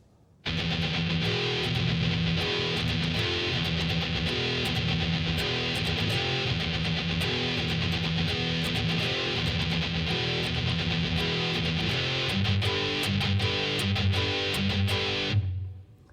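Electric guitar playing a part of a song at a slow tempo, a steady distorted rhythm figure that runs alone for about fifteen seconds before stopping abruptly.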